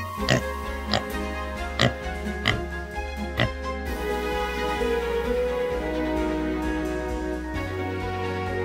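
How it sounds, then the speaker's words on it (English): Pigs oinking in a farm-animal counting sequence, a series of short sharp grunts at a steady rhythm followed by a continuous low snuffling drone. "Four pigs."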